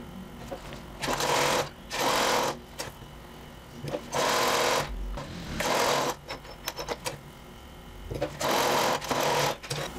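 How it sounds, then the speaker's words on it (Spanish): A sewing machine runs a blouse seam at a 1 cm allowance in several loud, steady bursts of rapid mechanical stitching, separated by short pauses. "Vamos a coser a 1 centímetro de costura, empezando desde acá."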